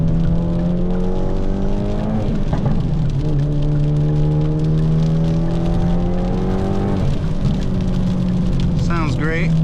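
A Hyundai Elantra N fitted with a downpipe and titanium exhaust drones steadily, its pitch climbing through two long pulls with brief drops between them, and a quick crackling burble at the very end.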